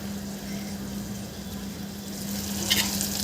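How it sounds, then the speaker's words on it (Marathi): Chopped tomatoes sauté in oil in a pan for masoor dal fry, giving a steady, close sizzle with soft stirring scrapes and a low background hum, no talk over it. "आता इथे आपल्याला बारीक चिरलेले टमाटर घालून घ्यायचे आहे आणि हे सुद्धा आपल्याला छान मऊ होतपर्यंत यामध्ये थोडा वेळ परतून घ्यायचे आहे"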